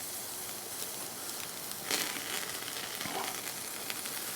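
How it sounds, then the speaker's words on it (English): Bratwurst that has sat in barbecue sauce sizzles steadily on a hot barbecue grill for a tailgate, a continuous close crackle with a brief louder flare near the middle and no talking. "So we're going to get these grilled up and taste this one that's been in the barbecue sauce for a little while."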